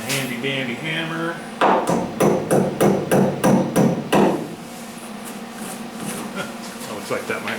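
A hammer strikes a lower quarter panel patch on a 1977 Camaro Z28, a quick series of about eight sharp metallic blows in a steady rhythm, followed by a few fainter taps.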